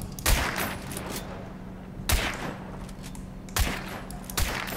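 Gunfire in Hunt: Showdown, with four loud, cracking shots at uneven intervals. Each shot rings out with a brief echoing decay over a quiet, low ambient hum.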